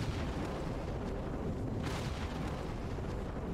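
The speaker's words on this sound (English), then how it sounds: "Carpet bomb is coming in." Carpet bombing in Cepheus Protocol makes a continuous dense rumble of blasts, with one brighter explosion cracking through midway and no pause in the low roar.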